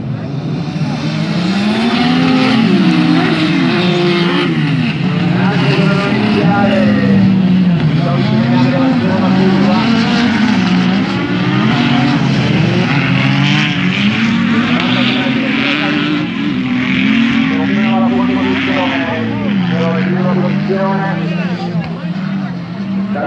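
Autocross race cars launch from the start and accelerate hard at Vighizzolo d'Este, engines revving loudly and continuously with rising and falling pitch through gear changes, over Italian commentary.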